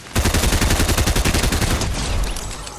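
Rapid automatic gunfire from a Fortnite match as a player takes out opponents, a dense run of loud, evenly spaced shots for about two seconds that then fades into a softer tail.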